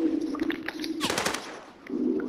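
Gunfire in the Call of Duty video game, heard as a loud, rapid automatic burst lasting about half a second, set against a background of game sounds.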